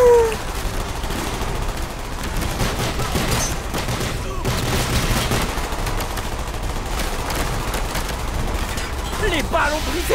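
Gunfire in the shooter game Call of Duty: Black Ops rattles continuously and loudly, a dense fusillade of shots breaking boxes with booming impacts.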